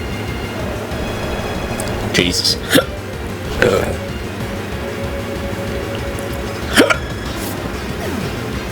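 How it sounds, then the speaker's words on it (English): A man burps several times, short throaty bursts spread across the clip over a steady background hiss, with a brief muttered word between them. "I'm burping."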